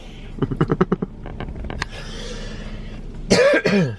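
A rapid burst of several coughs close to the mic, followed by a pause and then another harsh, throaty cough.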